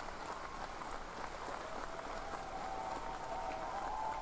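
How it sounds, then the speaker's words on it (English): A crowd applauding at a Germany versus Italy fencing match, a steady even wash of many hands clapping at a moderate distance with no pauses. "As the crowd claps."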